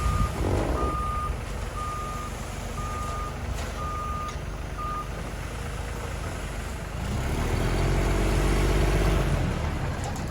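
A concrete truck at a building site backs up, its reversing alarm sounding a steady run of evenly spaced beeps over a loud diesel engine rumble that swells toward the end.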